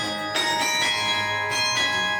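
Carillon bells ring out loud and sustained, with several struck tones layering and overlapping into a shimmering, resonant chime that keeps decaying and restriking.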